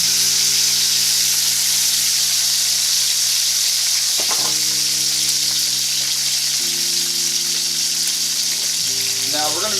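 Bacon sizzles loudly and continuously in a frying pan close by, a dense crackling hiss that runs throughout over a steady low hum, with no talking.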